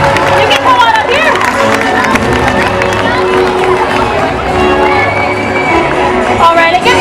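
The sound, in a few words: audience applause and cheering at SeaWorld orca show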